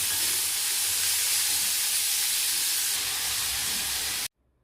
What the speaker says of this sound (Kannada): ಈರುಳ್ಳಿನ ಸೇರಿಸ್ಕೊಳ್ತಿದ್ದೀನಿ. ಇದು ಕೂಡ ಸ್ವಲ್ಪ ಫ್ರೈ ಆಗಬೇಕು.